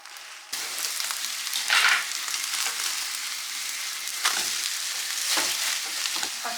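Eggs frying in oil in a pan alongside toast slices, giving a loud, close, continuous sizzle with brief spitting bursts and a few quiet clatters, and no talking.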